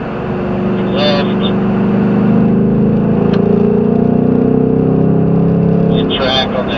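A Ford Mustang engine pulls hard on a road course at a performance racing school, a loud, steady drone that rises slightly in pitch as the throttle opens, with brief voice-like bursts over the engine noise.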